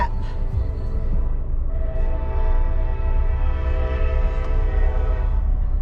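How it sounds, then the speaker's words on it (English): A train rumbles loudly past with a long sustained horn blast layered over the heavy low roar, heard close by from a car on a snowy road. "Train."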